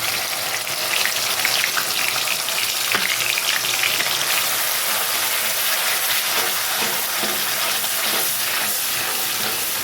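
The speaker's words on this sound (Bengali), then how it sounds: "পেস্টটা দিয়ে ভালো করে আমি ফ্রাই করে নেবো" A paste of tomato, ginger, garlic, onion and green chili fries in oil, giving a loud, dense, continuous sizzle close by with crackling spatter and no pauses.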